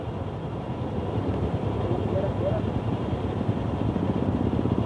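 A motorbike fords a water stream on an extreme crossing near Pangong Tso lake in Ladakh, giving a loud, steady, continuous roar of engine and rushing water throughout.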